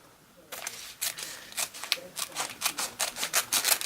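Scissors cutting a triangle shape into wrapping for an edible floral bouquet: a quick series of crisp, close snips, growing more rapid and regular after a quiet start.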